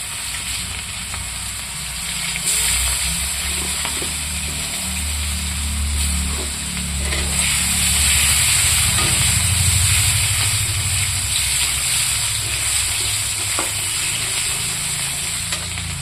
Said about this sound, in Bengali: তেলটা গরম হয়ে গেছে, পেঁয়াজটা দিয়ে দেবো।